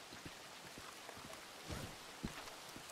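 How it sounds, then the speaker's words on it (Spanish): Steady rain falls in Red Dead Redemption II, a soft, even patter that runs throughout, with a few faint footstep-like knocks. The whole sound stays fairly quiet. "esta lluvia"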